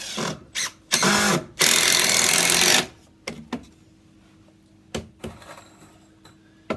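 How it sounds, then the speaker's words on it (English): A power driver drives big screws into a joist during a bathroom wet room build, with two loud, close whirring bursts, the second longer, followed by scattered clunks and knocks of handling. "some big screws straight into it."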